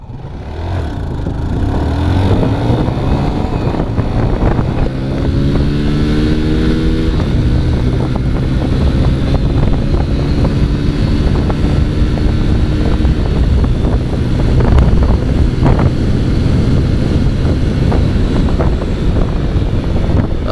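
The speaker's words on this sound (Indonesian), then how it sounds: "Di sini anginnya gede banget." Loud wind roars continuously against the microphone while riding a Jupiter Z1 motorcycle at speed, its engine droning throughout.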